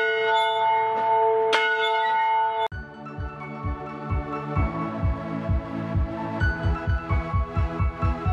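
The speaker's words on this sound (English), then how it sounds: "Ring that bell." A large bell rung at Yuma Territorial Prison, a former 1876 prison site in Yuma, Arizona, sounds one long ringing tone, then gives way to a rapid run of about a dozen rhythmic loud clangs close to the listener.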